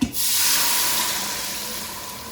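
Chicken broth pours into an Instant Pot with a steady splashing rush, close and continuous, tapering slightly toward the end.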